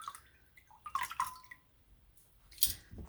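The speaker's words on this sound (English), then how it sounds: "Squeeze the water out." Wet wool squeezed out by hand, giving a few soft drips and splashes of water with a brief trickle, quiet and close, no talk.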